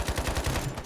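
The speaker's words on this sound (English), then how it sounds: "Oh god, he has shotgun too." Rapid gunfire, a shotgun in the online shooter game IronSight, bursts out as a quick close run of sharp, loud reports with no pauses between them.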